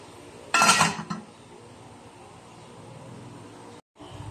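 A lid clatters onto a metal cooking pot while taro leaves in coconut milk (laing na gabi) cook, one short loud metallic clang followed by quiet kitchen background.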